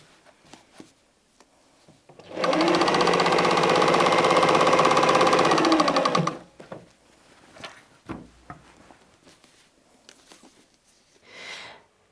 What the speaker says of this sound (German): Ich lege also meinen Stoff an die Viertel-Inch Linie und nähe los.